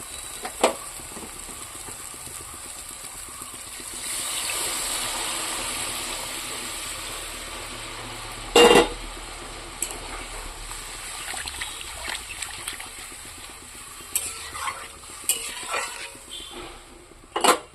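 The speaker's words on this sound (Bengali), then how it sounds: "এবার আমি এর মধ্যে গরম জল দিয়ে দেবো" Hot water poured into a spice mixture frying in oil in a pan, raising a broad, rushing sizzle that swells in the middle. Light utensil clinks, a sharp knock and scattered clatter follow, with no talking.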